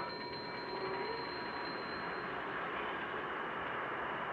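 A passenger train running on rails: steady, loud rumble and rolling wheel noise throughout, with a thin high squeal fading in and out, no voices.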